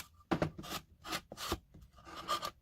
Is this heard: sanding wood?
yes